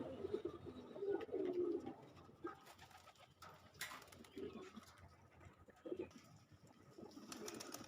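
Domestic pigeons coo softly and repeatedly, a low murmuring burble that rises and fades in short bursts against quiet background noise, fairly faint overall.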